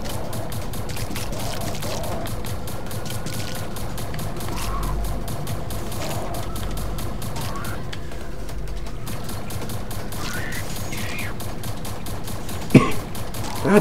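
Continuous rapid gunfire from a weapon shooting aliens in the video game It Came From Space and Ate Our Brains, a dense steady stream of shots with a sharper burst near the end, no talking.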